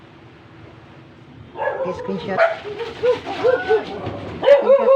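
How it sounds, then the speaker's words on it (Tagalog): Several dogs bark and yip in short, irregular bursts nearby while a person keeps talking over them. "mga aso dito guys, maingay"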